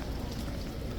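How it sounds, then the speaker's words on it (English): Steady rain falling at Horse Guards in London on a winter day, a dense, even hiss of drops close by with no pauses, no voices heard. "It's not pouring down, but it's raining a fair bit."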